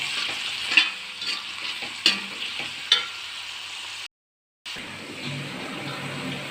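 Garlic, ginger, green chili and curry leaves sizzling in oil for a fish pickle, stirred with a spoon; a steady frying hiss with a few sharp scraping clinks, a brief dropout, then the sizzle resumes, close and without talk.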